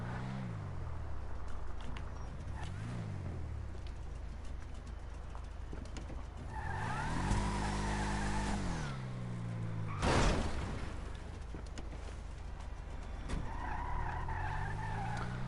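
A car in a video game reverses and skids, with engine revs rising and falling, sharp tire squeals, and one louder burst about two-thirds through, all fairly quiet and with no voices.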